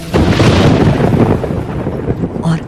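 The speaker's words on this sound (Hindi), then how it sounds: "तेज हवाओं के साथ बादल, बिजली कड़कने लगते हैं और बारिश होने लगती है" Thunder sound effect in a Hindi horror audio story: a loud, deep rumbling crash that rolls and slowly fades over about three seconds, close and heavy, with no speech over it.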